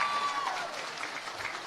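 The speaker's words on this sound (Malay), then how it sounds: "Tepuk tangan" A political rally audience applauds at a Perikatan Nasional GE15 manifesto launch in Malaysia, a steady wash of clapping that holds evenly through the moment with a brief tonal note near the start.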